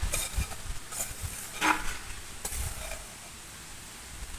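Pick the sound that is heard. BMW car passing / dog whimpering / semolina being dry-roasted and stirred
semolina being dry-roasted and stirred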